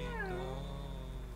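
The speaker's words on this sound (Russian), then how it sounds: "У меня даже кот мяукнул такой" A house cat lets out a single drawn-out meow that dips and trails off, heard over a steady low background hum.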